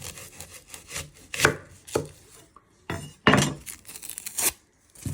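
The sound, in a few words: knife chopping the end off an onion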